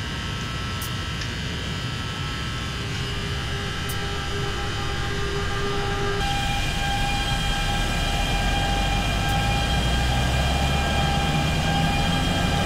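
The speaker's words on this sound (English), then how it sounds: "Now we're going to demonstrate the traction sounds now." Traction motor hum of an NJT Bombardier ALP-45DP locomotive hauling Comet cars in Train Simulator 2016, a steady rumble with a whining tone that shifts partway through, continuous with no talk.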